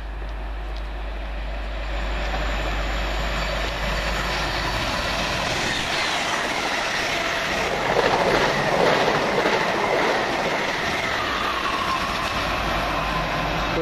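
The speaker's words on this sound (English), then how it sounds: "The in-city service from London Liverpool Street to Norwich." A passenger train on the London Liverpool Street to Norwich service passes at Kelvedon with a sustained, fairly loud rumble and rush, swelling midway as the carriages go by before holding steady.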